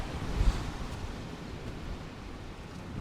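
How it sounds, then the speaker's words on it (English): Sea waves surge up a sloping shingle beach on the UK coast at Walton during a fishing competition, giving a steady broadband wash with a louder rush near the start, mixed with wind noise on the microphone. "I've been dodging more waves coming up the slope than I have anything else"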